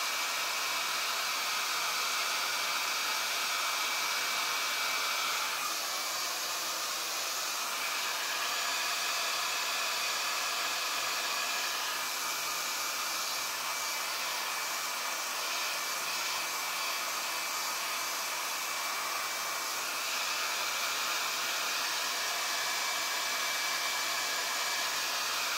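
A hair dryer blows continuously over a watercolor painting of a boat and water reflection, a loud, steady whooshing hiss that runs unbroken with slight shifts as it moves across the paper.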